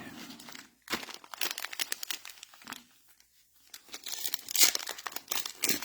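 Foil trading card pack wrappers, Optic Megas football packs, being ripped open in quick crinkly tearing bursts, close and fairly loud, with pauses between packs.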